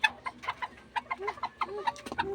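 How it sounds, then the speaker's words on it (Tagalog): Chickens in a coop cluck in quick, irregular bursts close by, short clipped calls tumbling over one another at a moderate level. "Chick chick chicken."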